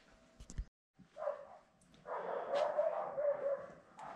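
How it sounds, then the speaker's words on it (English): Dogs barking at the neighbor's dogs, with a few short yips and barks followed by a longer run of excited barking and whining, moderately near but not loud. "Our dogs bark at the neighbor's dogs"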